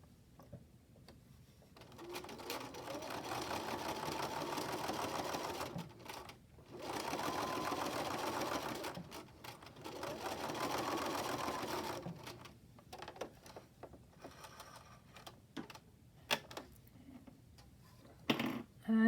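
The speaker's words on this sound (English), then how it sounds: "I will do another basting stitch next to the one that I just created." A domestic sewing machine stitches a long basting stitch in three sustained bursts of rapid mechanical chatter, each a few seconds long, followed by quieter clicks and handling noises.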